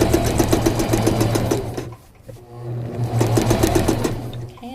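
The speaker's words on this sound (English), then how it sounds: "Okay, and then I'm just going to stitch to that other dot." A sewing machine stitches a crotch seam in rapid, loud, even bursts, pausing briefly in the middle and then running again.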